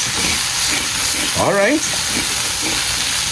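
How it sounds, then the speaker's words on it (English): Steady, crackling sizzle of okra and salt fish frying in a pan with a little oil, loud and close, with a short spoken phrase cutting through the middle. "Ten minutes has passed. The sizzling slow down."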